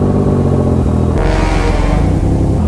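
A Yamaha Niken three-wheeled motorcycle engine idles with a deep steady rumble, then revs up sharply partway through and holds a louder, rougher roar, close and alone.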